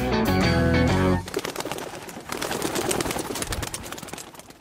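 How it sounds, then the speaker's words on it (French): A dense burst of wingbeats as many homing pigeons take off together from their loft, fluttering loudly at first and then continuing as a busy flapping clatter. "c'est le bruit des ailes de pigeons voyageurs qui s'envolent depuis leur colombier"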